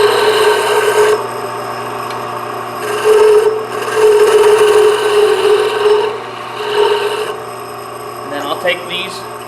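A wooden game-call striker is tapered down on a lathe, making a steady, close scraping hum in several swelling passes, with the motor drone underneath and brief gaps between cuts.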